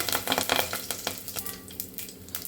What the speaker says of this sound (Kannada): ಇವಾಗ ಹ್ಯಾಂಡ್ ಫುಲ್ ಆಗೋಷ್ಟು ಕರಿಬೇವಿನ ಸೊಪ್ಪನ್ನು ಹಾಕ್ಕೊಳ್ಳಿ ಚೆನ್ನಾಗಿ ಅದು ಕಾಣಬೇಕು ಹಂಗೆ ಒಂದು ಸ್ವಲ್ಪ ಫ್ರೈ ಮಾಡಿ